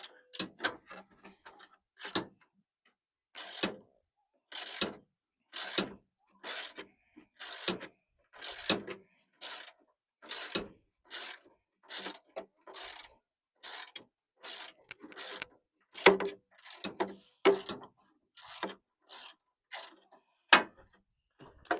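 A ratchet wrench works a long bolt loose on the fender of a 1994 Ford F250, making short bursts of rapid clicking separated by brief pauses, repeated steadily and heard alone.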